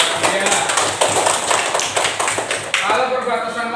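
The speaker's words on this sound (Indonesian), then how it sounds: "tepuk tangan Mbak Julia" Children clapping in an elementary school classroom, a brisk round of claps with rhythmic hand taps under chatter and voices.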